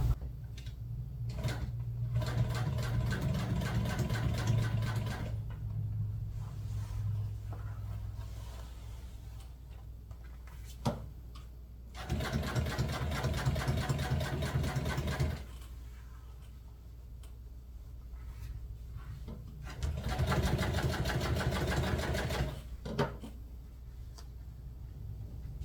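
A sewing machine running a heavy top stitch on upholstery material in several long, steady, rapid-ticking runs with pauses between them, close and moderately loud.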